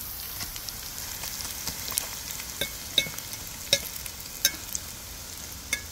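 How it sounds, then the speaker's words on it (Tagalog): Anchovies fry in boiling oil, giving a continuous hiss with scattered sharp pops and spatters that crackle at irregular intervals throughout, close and moderately loud, with no voices. "Ilabas ang kumukulong mantika. Ilagay ang dilis ng mabilisa."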